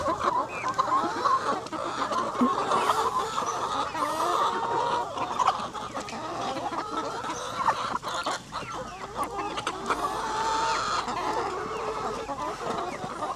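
Backyard pet chickens in the Philippines cluck and chatter busily while pecking at jackfruit, a continuous close flock of overlapping clucks and squawks with no talking.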